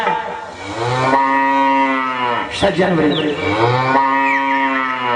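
Cattle mooing loudly and close, long sustained bellowing calls, with a brief break in the middle before the lowing resumes.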